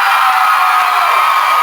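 A concert audience at a show in Atlanta, cheering and whooping loudly in a dense, continuous wash of crowd noise with no gaps.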